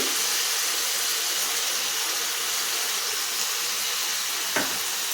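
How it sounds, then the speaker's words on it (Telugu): Cut potatoes with a spoon of salt frying in oil: an even, loud, hissing sizzle that runs unbroken, close, with one brief clink near the end. "ఇవి కొద్దిసేపు ఆయిల్లో వేగాలండి"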